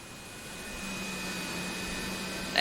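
Boeing 737-200 jet engines in a flight simulator spooling up, a steady whining roar that swells gradually with a faint tonal hum, ending in a short click, alone without voices.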